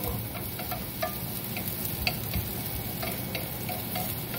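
Chopped onion sizzles steadily in hot oil in a frying pan, with soft scraping and stirring strokes at intervals and small ticking pops over a constant close hiss.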